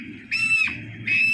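Two loud, harsh squawking calls from a live chicken at a poultry shop, close by, separated by a short pause, over a low background rumble.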